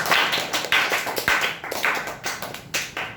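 An audience claps for someone speaker at a public speaking competition, the applause rising and falling in uneven bursts of quick, crisp claps with a few louder taps.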